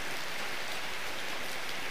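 Steady rain pours down outdoors in a continuous, even wash of close patter with no voices, a wet-season downpour heard while out riding.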